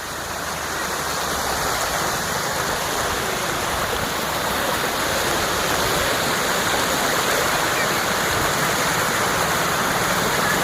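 Floodwater pours through a village in Odisha in a loud, steady, unbroken rushing roar that stays close and constant throughout.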